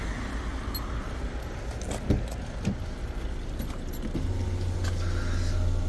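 Keys to a 2020 Volkswagen Tiguan R-Line jangle in short, light metallic bursts at a used car lot, set against a steady low hum from traffic or an engine nearby.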